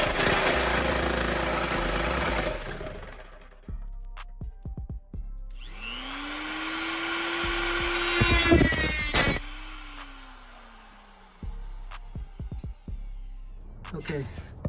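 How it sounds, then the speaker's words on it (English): A saw cuts through the factory exhaust mufflers on a BMW E93 M3 with a long, loud, steady grinding pass lasting several seconds, framed by earlier tool noise and clanks, with a short second cut afterward. "I'll make a cut right around here with"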